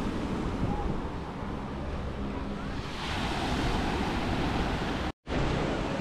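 Sea waves wash steadily onto a rocky shore beside a street opening to the sea, a loud continuous roar of surf mixed with wind buffeting the microphone, with one brief dropout near the end.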